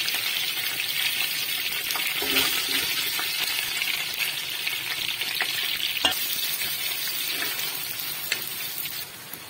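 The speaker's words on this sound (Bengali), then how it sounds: "গোটা মশলাগুলো ঢেলে দিচ্ছি" Whole spices frying in oil for bhuna khichuri, a loud continuous close sizzle with occasional metallic stirring clinks and taps.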